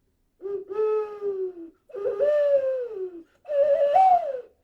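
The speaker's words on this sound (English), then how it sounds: "Here's the ocarina from South America, made from clay." A clay ocarina from South America plays three sustained, breathy, hooting notes, each gently bending in pitch and separated by short pauses, clear and close with no background sound.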